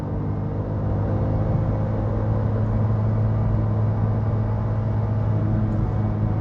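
The engine of a manual car runs near 6,000 RPM while accelerating, making a loud, steady droning hum with constant road rumble underneath and no talking.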